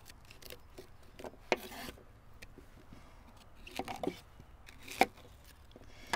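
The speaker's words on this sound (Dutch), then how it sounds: "Je snijdt de venkel doormidden." A knife chops through fennel on a cutting board, with a few sharp, crisp cuts spaced out over a quiet background and no one speaking.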